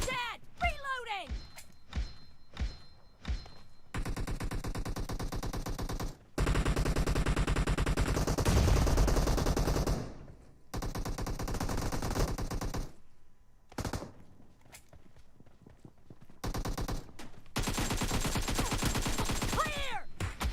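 Automatic gunfire in PUBG Mobile team deathmatch, loud bursts and sustained rattling fire in several stretches, with players talking over the shooting.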